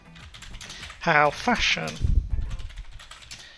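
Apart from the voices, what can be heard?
typing on a computer keyboard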